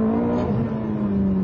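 Ferrari F430 engine held at about 4,000 rpm, a loud, steady, smooth drone with a strong low tone and no talking over it.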